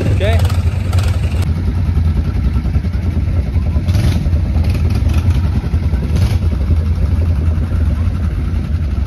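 ATV engine running at a steady low rumble as a jungle ride gets under way in Costa Maya, Mexico, a continuous close drone with some clatter, under a talking voice.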